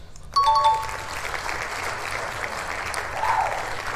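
A short burst of applause plays as a sound effect in the City Guesser video game, opening with a chime and settling into steady, moderately loud clapping.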